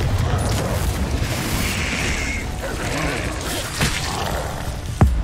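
A Confringo fire-blast spell cast in the Hogwarts Legacy video game: a muffled boom buried in a dense wash of battle noise, with a sharp impact near the end.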